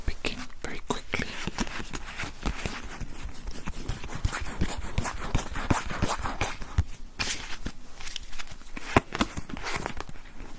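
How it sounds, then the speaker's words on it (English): Dense, rapid riffling and flicking of a deck of playing cards being shuffled, a continuous crisp flutter with a few sharper snaps, close by and fairly loud. "Let me shuffle these cards though before we begin very quickly."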